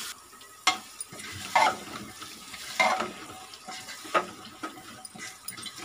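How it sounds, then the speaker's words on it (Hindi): Vegetables stirred and mixed in a pan for dal khichdi, with spoon scrapes and soft sizzling in several short bursts, close and moderate in level, no voices. "और इन सबको भी हम अच्छे से मिक्स कर लेंगे।"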